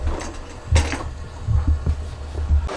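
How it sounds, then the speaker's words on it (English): A Brother PE770 embroidery machine stitching a backpack runs in the background, a low rhythmic mechanical thumping and hum with uneven pulses, fairly close and without speech. "I still have the machine over there running because I still have about 9 more bags to do"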